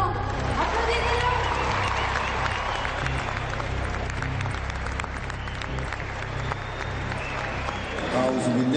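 A lecture-hall audience applauds Tariq Ramadan after his introduction, a broad continuous wash of clapping from a large crowd with a low rumble underneath, steady and moderately loud for several seconds.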